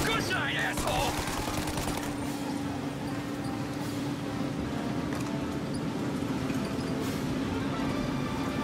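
Steady, continuous gunfire crackles through a tense firefight in Mafia: Definitive Edition, many rounds rattling without pause beneath a low droning hum, with indistinct voices mixed in.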